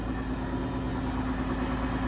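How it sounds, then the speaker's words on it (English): A tractor's emergency brake gives off a steady, even buzz over the low idle of a diesel engine. Both run continuously, close and moderately loud, with no talking. "That buzzing noise is the emergency brake."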